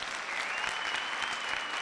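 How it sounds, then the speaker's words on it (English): Dense, steady applause from a sizeable crowd at a graduation ceremony, a continuous wash of clapping with no pause. "Can we give him a big round of applause?"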